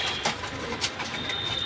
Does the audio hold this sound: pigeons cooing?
yes